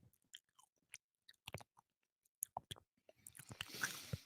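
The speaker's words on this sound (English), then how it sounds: "I really enjoy the sound of chewing in the microphone" Food chewed right up against a microphone: irregular wet crunches and clicks, very close and dry, with a soft hiss of breathing near the end and no talk.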